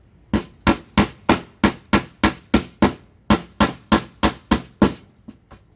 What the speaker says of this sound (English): So we're just gonna hammer in this